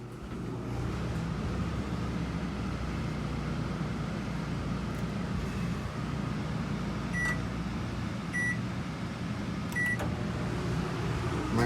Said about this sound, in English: Microwave on.